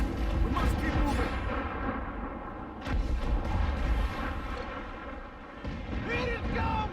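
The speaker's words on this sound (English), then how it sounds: "Look up, Mortar incoming!" Heavy booming mortar fire from warships in Assassin's Creed 4 Black Flag naval combat, repeated deep blasts and rumbling impacts layered under shouting crew voices.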